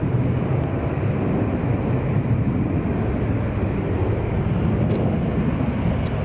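A KLM airliner takes off at Zurich Kloten Airport, its engines producing a steady, broad roar that holds constant for several seconds with no talk.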